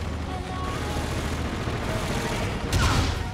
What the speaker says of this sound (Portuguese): Essa daí é a minha nova sniper aí.